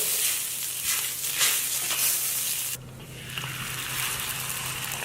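Egg-filled flatbread frying in an oiled pan, a loud close steady sizzle with a hissing wash of crackle that drops briefly then continues evenly, no talk.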